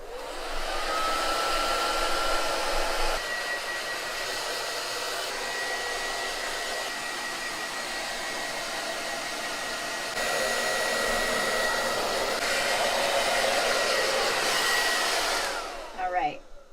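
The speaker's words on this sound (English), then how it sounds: "So I'm gonna put my hair dryer on warm and blow dry her a little bit to dry her off." A hair dryer on its warm setting blows steadily and close to dry off a freshly washed chicken, a constant whooshing drone that runs throughout and briefly shifts in level before cutting off near the end.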